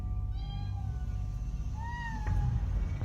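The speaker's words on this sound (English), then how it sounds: "the cat was responding while it hid itself in a room across their main apartment" A cat hidden in a room across an apartment meows twice, two drawn-out, moderately distant cries over a steady low background rumble.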